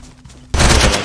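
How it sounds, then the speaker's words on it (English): A sudden, loud, close burst of gunfire in the survival game DayZ erupts after a moment of quiet and fills the rest of the brief moment. "I'm getting shot!"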